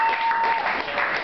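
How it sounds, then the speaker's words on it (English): An audience applauds a man introduced on stage at a live show, a dense burst of clapping filling the room with a faint tone underneath. "Give him a round of applause."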